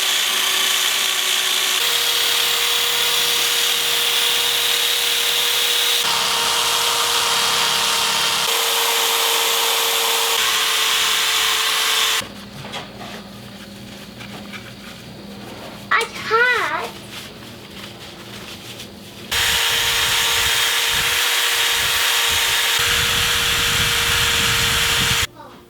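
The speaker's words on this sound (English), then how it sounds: "I've got an electrical drill with a buffing attachment on it." An electric drill fitted with a buffing wheel and green buffing compound whines steadily while polishing an aluminum foil ball, stopping briefly in the middle before spinning up again, loud and close.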